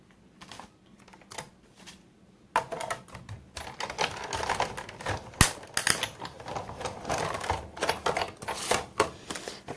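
A Big Shot die-cutting machine is cranked by hand to cut a shape from card, giving a rapid clattering, ratcheting run of clicks that starts quietly and turns louder and denser partway through.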